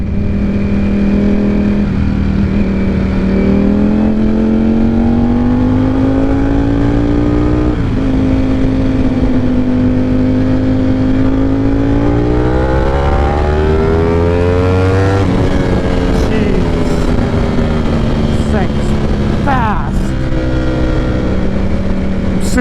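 A Yamaha R7 and a Ducati Panigale V4 ride on the road, a loud, close motorcycle engine droning and revving through rising and falling pitch with sharp acceleration bursts near the end.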